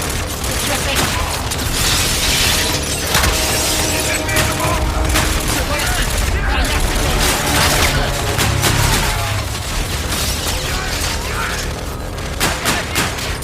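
Video game gunfire erupts in dense, loud bursts of shots and booms, nearly continuous throughout, with players' voices calling out over the shooting.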